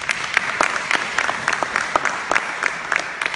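An audience at a Sufi night of a Punjabi film festival breaks into applause, a crowd's steady clapping with sharper individual claps popping out irregularly above the dense, sustained patter.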